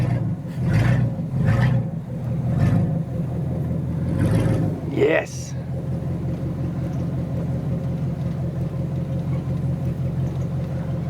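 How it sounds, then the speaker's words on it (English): A rough V8 engine in a 1957 Chevy, unrun for over 40 years, idles and revs in short bursts like a derby car, loud and close, with people talking over it. "Sounds like a derby car."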